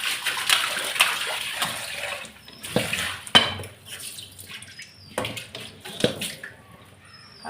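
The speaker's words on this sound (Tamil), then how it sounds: "இதை ஒரு பாத்திரத்தில் ஊற்றி வச்சுக்கலாம்." Liquid is poured from a kitchen pan into another vessel, making a splashing, gurgling pour with clinking metal in between, close by and moderately loud.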